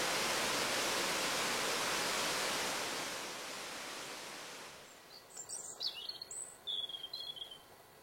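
Several wild birds chirp and call in short bursts in spring nesting season, coming through after a loud wash of steady noise fades out, fairly faint and spread across the last few seconds.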